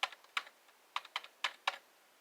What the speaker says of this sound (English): It's a Dell Quiet Key.